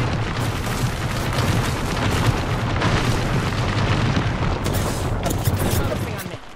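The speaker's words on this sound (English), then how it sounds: "Airstrike." Airstrike in Apex Legends, a dense continuous barrage of booming explosions that stays loud and rumbling for several seconds before easing off at the end.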